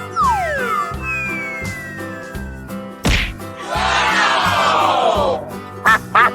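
Cartoonish duck quacks from a 3D animal video game sound over bouncy game music, with whooshing sliding effects and brief crowd-like bursts.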